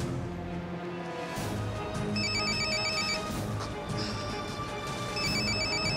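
A telephone rings repeatedly in a comedy sketch, its electronic trilling bursts recurring in short regular groups over a busy background of music and room noise, with no voices over it.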